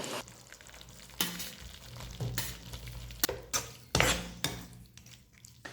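Fried chicken pieces stirred into a sauce for lemon chicken in a pan, steady close sizzling broken by several sharp scrapes and clatters of a utensil against the pan, with no talking.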